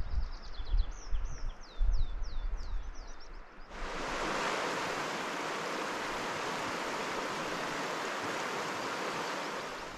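Kivijoki, a river in Finnish wilderness, flows with a steady, even rushing that fades in after a few seconds of birdsong and soft nearby movement, then holds at a moderate level.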